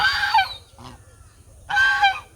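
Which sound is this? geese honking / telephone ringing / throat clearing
geese honking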